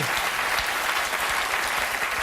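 Studio audience applause on a talk show on Earth Day, loud and steady clapping that fills the whole stretch, with no one talking over it.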